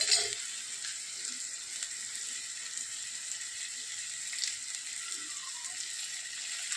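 Chopped tomatoes and onions fry in a pan, giving a continuous, even hiss of sizzling oil, close and moderately loud, with occasional faint clinks and no talking.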